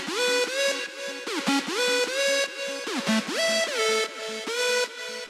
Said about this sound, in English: And then the third lead we have is a hardstyle sounding synth.